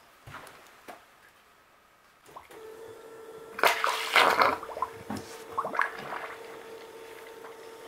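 A blue bowl gold concentrator with a silicone mat, holding a few tablespoons of material, switches on: a low motor hum sets in, then running water churns and gurgles in bursts, fairly close.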